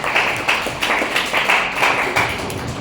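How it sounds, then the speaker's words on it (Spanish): Students at a school science event, Colegio de Bachilleres 20 in Matías Romero, applaud the speakers, a loud steady wash of many hands clapping close by with rhythmic pulses and no talk. "démosles un aplauso"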